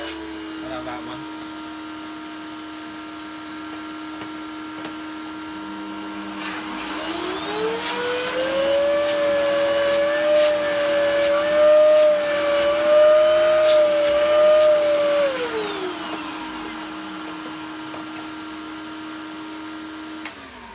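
A 2,200-watt PurePower vacuum cleaner spins up for a suction test, holds a loud steady whine for several seconds, then winds down, with people talking around it.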